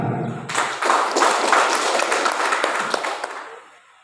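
Audience clapping at a customary village council gathering, a dense burst of applause that starts abruptly, stays loud for about three seconds and then tapers off.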